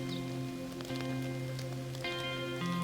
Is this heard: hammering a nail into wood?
no